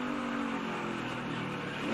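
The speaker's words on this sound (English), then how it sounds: "you hear Cole Custer downshift into 3rd and then drive away" A NASCAR race car at Iowa drops into third gear and pulls away after a crash. Its engine roars loud and steady throughout, with no voices.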